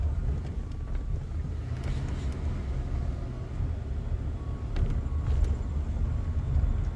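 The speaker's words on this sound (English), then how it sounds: "I'm right now driving down the streets of DC." A car driving through the streets of Washington, DC, with a steady engine and road rumble inside the cabin, joined by a few faint clicks and light wind noise.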